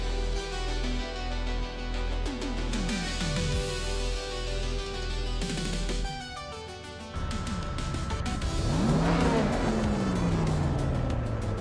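Vintage race cars, including a Ford RS200, roaring around Hockenheimring in a racing video game, with engines revving and pitch sweeping up and down as cars pass close by, shifting gears in a loud continuous blend.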